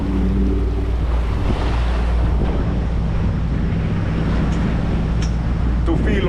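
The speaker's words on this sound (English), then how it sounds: "To feel more of the waves, swells, and to give you realistic conditions." Steady open-sea wash of waves and swell around a Dufour 520 Grand Large sailing yacht under way some 20 nautical miles offshore, a continuous loud rush mixed with wind buffeting the microphone throughout.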